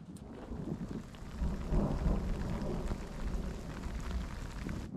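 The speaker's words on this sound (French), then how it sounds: "j'ai rentré l'appareil parce que les gouttes commencent à être de plus en plus grosses" A mountain thunderstorm with growing raindrops: a heavy low thunder rumble swells and rolls through the middle over a continuous hiss of rain, loud and close with no talking.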